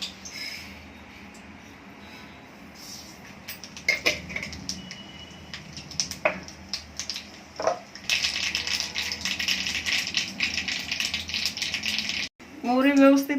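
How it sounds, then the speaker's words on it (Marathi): Mustard seeds spluttering in hot oil in a kadhai, a hissing crackle that begins partway through and continues steadily to the end, with scattered clatter and a voice speaking earlier. "मोहरी व्यवस्थित तडतडून द्यायची."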